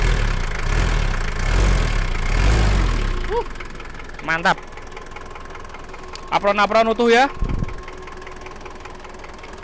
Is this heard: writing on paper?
no